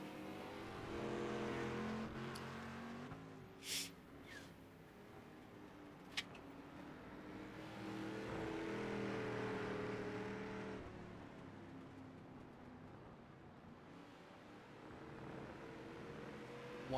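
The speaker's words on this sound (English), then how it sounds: "these drivers come heavy braking into the final corner once again" Race cars in a tube frame racing series at Laguna Seca, engines droning and changing pitch steadily as they brake and accelerate through corners, with a few sharp transient clicks and no clear talk.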